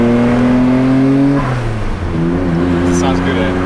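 Nissan Skyline R34 GT-R V-Spec II engine revving hard at a launch, a loud steady harmonic drone that drops in pitch then climbs again, with people talking over it close by.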